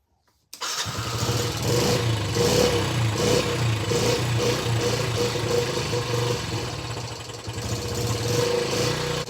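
A Richard Petty car engine starts after a carburetor rebuild and runs on at a loud, steady, slightly uneven idle close by, with no talk.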